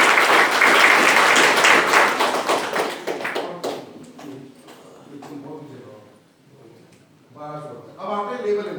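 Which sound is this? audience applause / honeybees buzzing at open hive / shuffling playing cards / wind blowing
audience applause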